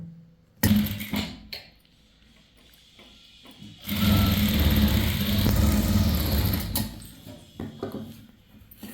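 Sewing machine stitching the shoulder seam of a chudithar, a short burst near the start, then a long steady whirring run through the middle before stopping, with softer handling sounds around it.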